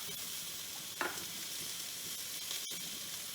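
Terasi shrimp paste frying in a pan for sambal terasi, giving a steady, bright sizzle with a short stirring clatter near the start and a sharp click later on.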